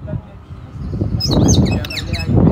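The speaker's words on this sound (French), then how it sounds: "L'oiseau est en train de nous parler là." Bright, rapid bird chirps and tweets come in about halfway through and repeat in quick clusters over a steady low rumble of outdoor background noise.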